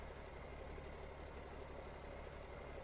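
A Chevy C70 truck engine in Farm Simulator 19 hums at a low, steady idle-like drone, quiet and even throughout with no clear rev change and no talking.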